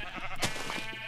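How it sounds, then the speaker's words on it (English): A sheep in a Minecraft-style survival video game lets out a short bleat, fairly quiet and close, alone without talk. "Oh, sorry, sheep."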